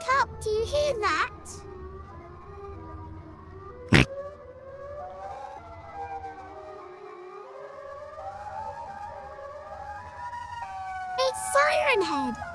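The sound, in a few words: siren wailing, horror sound effect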